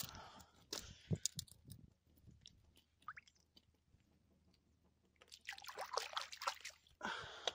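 A small fish slipped back into the water while out fishing, soft trickles and drips with a brief splashy burst near the end, close and fairly quiet.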